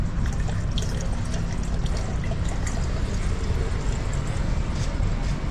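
Water pours steadily through a water device, a dense continuous splashing trickle that stays loud and close throughout.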